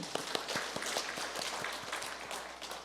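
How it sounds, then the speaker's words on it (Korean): A church congregation at a Sunday worship service applauds with a steady patter of many hands and a few sharper claps standing out, moderately quiet and somewhat distant, continuing for about three seconds. "다시 한번 박수"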